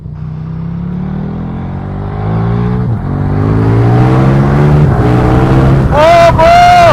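A KTM 1290 Super Duke GT motorcycle accelerates hard into a small power wheelie, its engine roaring loud and close as the pitch climbs steadily through the gears, then peaks in a high shriek.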